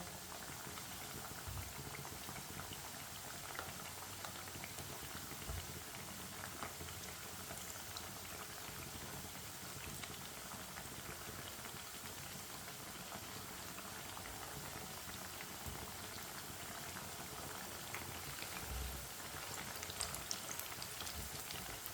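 Pea tikkis (matar kababs) frying in a pan over a medium flame, a steady, dense bubbling sizzle that runs evenly throughout with no voices.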